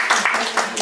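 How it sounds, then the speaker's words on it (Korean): Audience applause at an indoor Cheondogyo dialogue gathering, a dense wash of clapping filling the short moment without a break. "박수로 네, 응원해 주세요."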